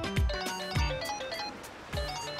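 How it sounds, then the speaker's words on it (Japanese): A mobile phone rings in the video game Like a Dragon 8, a bright looping melodic ringtone with a repeating pattern roughly every second, moderately loud and alone. "電話鳴ってるみたいだぜ。"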